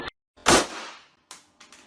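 A single sharp gunshot, close and loud, with a decaying tail, followed by two fainter clattering bangs.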